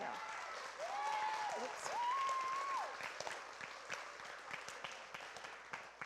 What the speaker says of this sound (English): So they're all out there, so clap for them.